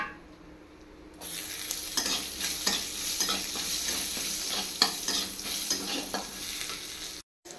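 Sliced onions and chillies fry in hot oil in a kadai with a steady sizzle, joined after a quiet first second by repeated scraping and stirring strokes close by, before cutting off briefly near the end.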